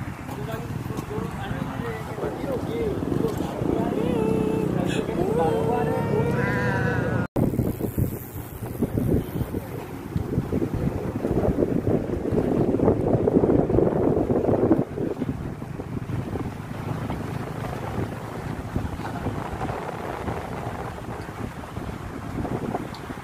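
Strong wind buffets the microphone on a moving boat, with a steady roar of air and water throughout and voices talking briefly at the start.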